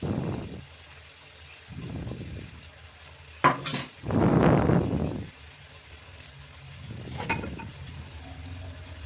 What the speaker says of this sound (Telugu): ఇట్లా గరిటెతో తిప్పుకోవచ్చండి, కలుపుకోవాలి